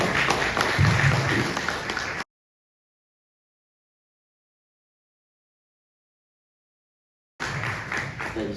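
Seminar audience applauds a professor in a burst of dense clapping, then falls silent, and the clapping returns near the end.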